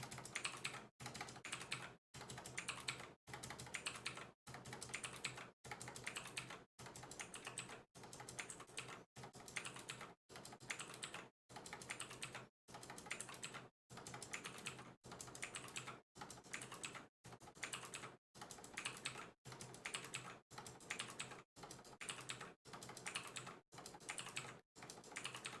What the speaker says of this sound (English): the keyboard that I have here, that you guys are listening to right now, is apparently one of the fucking loudest keyboards